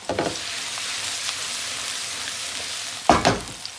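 Onion and garlic sizzle in a pan over medium heat, a soft steady frying hiss with two brief clattering stirs at the start and near the end; no talking.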